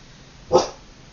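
A single short dog bark, somewhat distant, against a quiet background.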